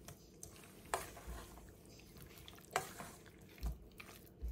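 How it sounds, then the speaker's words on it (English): A small spoon gently stirring a black pepper chicken marinade in a bowl, faint soft swishes with a few sharper clicks of the spoon against the side, spaced irregularly and close, no speech. "So we're just gonna get a little spoon. Just gently stir this around."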